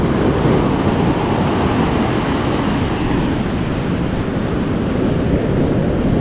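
Ocean waves surging with a continuous broad roar, loud and close, with wind buffeting the microphone and no talk.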